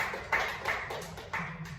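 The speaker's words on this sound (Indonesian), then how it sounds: "Tepuk tangan dong teman-teman" A small group of classmates claps briefly during a group guidance competition session, a short patter of a few hands in a room, close and fairly soft.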